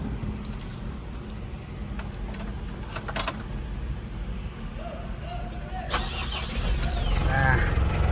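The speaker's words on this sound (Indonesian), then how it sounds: "Lalu kita coba nyalakan mesin L300 ini." A 2022 Mitsubishi L300 ambulance with its door open: keys jangle, then the engine cranks and starts and settles into a louder steady idle, with someone talking throughout.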